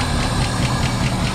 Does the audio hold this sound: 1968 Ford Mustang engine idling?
yes